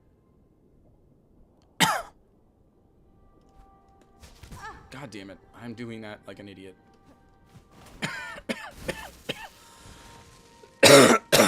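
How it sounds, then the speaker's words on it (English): Someone coughs and clears their throat while playing the game Silksong, with a sharp cough near the start and a burst of harsh coughing at the end, and a man's speech between them. "I'm trying not to cough when I do that jump"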